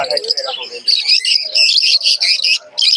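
Pigeons and doves, including Australian doves, chirp and call close by at a busy bird market in Khulna, Bangladesh, with dense bright bursts of calls overlapping in quick succession and people talking underneath.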